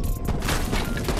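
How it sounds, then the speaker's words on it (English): Grenade explosion in Black Ops Cold War, a loud, dense rumbling blast that sustains with crackling debris across the short moment, with no talk over it. "I throw a grenade, no kill"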